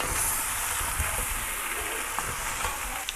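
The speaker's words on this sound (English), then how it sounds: "We are now going to fry the mixture together for another minute or two." Flour mixture for an oxtail stew frying in a pan, giving a steady, dense sizzle that holds evenly throughout with a few small pops, close and fairly loud.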